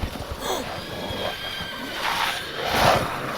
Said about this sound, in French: Ils domptent des chevaux?